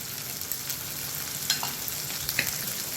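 Onions with turmeric and chili powder fry in a pan as a soft, continuous sizzle with a few sharper crackles and stirring scrapes, close but quiet, no talk.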